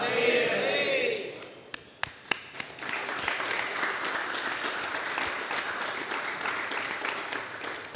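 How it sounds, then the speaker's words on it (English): An audience applauds steadily at a Bhagavad Gita class, a broad wash of many hands clapping that continues for the whole stretch, with a few sharp individual claps standing out near the start. "I'm clapping for you."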